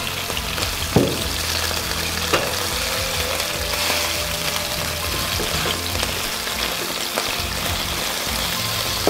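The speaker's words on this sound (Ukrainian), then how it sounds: "і знову перевертаємо на другу сторону. Це є трошки шкуринки. Угу. Так. Добре, обсмажуємо." Mushrooms fry steadily in a hot pan, a continuous close sizzle with a few sharp scraping clicks as the pieces are turned over to brown the other side.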